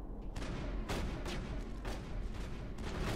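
Repeated gunfire bursts from the Mass Effect video game, several sharp shots at irregular intervals over a dense, steady background of game noise.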